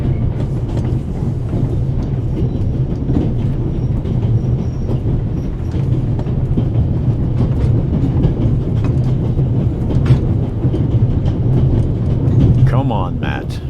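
A train runs on rails on a long-distance route of more than 3,000 kilometres, giving a steady low rumble with faint clatter throughout and a brief high squeal near the end. A voice is heard over the rolling noise.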